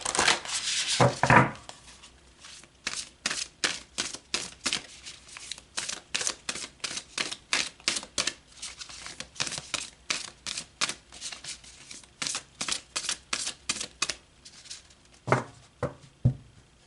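A deck of oracle cards is shuffled and pulled close by, first one long riffling rush, then many sharp rhythmic card slaps and snaps in quick bursts, with no talking.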